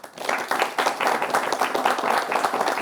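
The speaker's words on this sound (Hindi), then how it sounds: "स्वागत कर सकते हैं ताली बजाकर भी" An audience at an Indian television discussion show claps in welcome for the teachers and students present, a dense, even burst of many hands filling the whole moment without talk.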